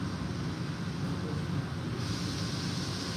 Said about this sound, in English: the noise you hear is the turbine next door firing up